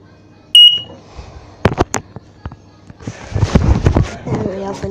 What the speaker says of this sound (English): Here we have an EI Electronics EI164 heat alarm.